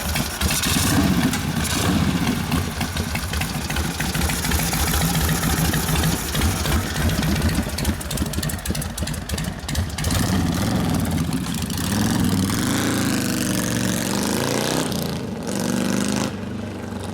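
A 1972 Harley-Davidson XL Ironhead Sportster bobber with a freshly rebuilt motor idles steadily and loud up close, its lumpy mid-range rumble continuing for the whole stretch with slight revs and no talking.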